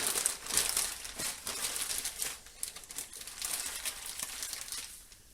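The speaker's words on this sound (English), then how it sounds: "And I just put it in a freezer gallon size bag." A plastic gallon-size freezer bag crinkles and rustles close up as pizza dough is packed into it, a busy run of crackling handling noises that fades out at the end.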